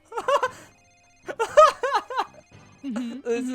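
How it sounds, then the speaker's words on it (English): Cell phone ringtone in the Ace Attorney video game, a repeating electronic ring in short bursts mixed with voiced game dialogue. "Where's that ringing coming from?"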